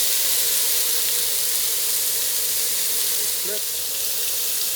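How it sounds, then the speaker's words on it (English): Marinated steak for tacos sizzles in a hot pan, a steady loud frying hiss with crackle throughout, close and continuous. "Marinated steak cooking."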